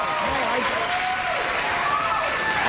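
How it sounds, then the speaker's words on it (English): Studio audience clapping in a continuous, even burst of applause, with a voice audible over it. "Don't applaud."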